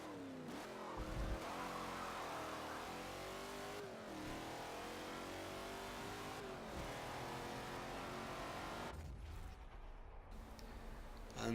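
A Shelby Cobra revs hard through a racing lap in Forza Motorsport 7, its engine rising and falling in pitch as it repeatedly accelerates, brakes and shifts, loud and continuous with no talk over it.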